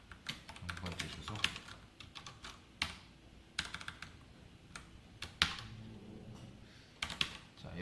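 Code being typed on a computer keyboard, fast irregular clusters of light key clicks with short pauses, quiet and close, a voice talking softly in between.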